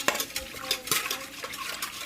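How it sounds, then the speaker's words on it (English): Ingredients whisked together for homemade yogurt, quick rhythmic whisk strokes clicking against a bowl, close and fairly loud with no voices. "And then you just whisk it in there together"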